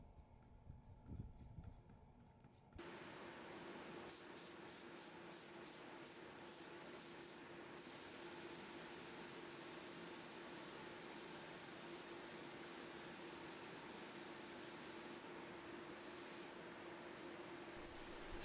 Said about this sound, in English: I'm using a turbine spray gun, and this is a Graco Edge something, like Edge 3 or Edge 4